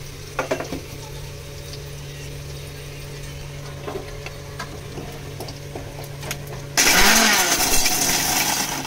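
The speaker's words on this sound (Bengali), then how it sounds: "এবার আমি এখানে যে কাজু আর লঙ্কাটাকে হালকা তেল শুকনো খোলায় ভেজে নিয়েছিলাম সেটাকে একটু পিষে নেব, শুকনোভাবেই পিষে নেব" Dry-roasted cashews and chillies are ground in an electric grinder, a loud dense whirring roar switching on near the end after a quieter stretch of kitchen clatter and faint clicks.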